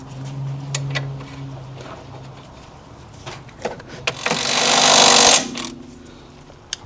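A tool tightens a new nut on the front control arm of a BMW, giving one loud buzzing burst of about a second and a half amid quieter clunks and handling noises.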